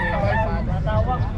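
Chickens and other fowl at a crowded poultry market in Pampanga, a loud close mix of honking, squawking calls layered over the steady noise of the crowd.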